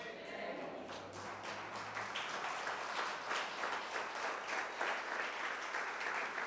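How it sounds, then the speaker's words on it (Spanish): Sustained applause from an audience at a sermon-style gathering, dense steady clapping that fills the whole stretch at a moderate, even level with no voices on top. "yo no estoy entendiendo por qué está aplaudiendo usted"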